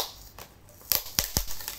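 Packing tape is ripped off a parcel in a few sharp, loud tearing bursts after a quieter start, with no voices.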